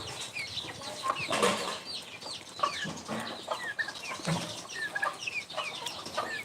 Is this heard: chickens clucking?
yes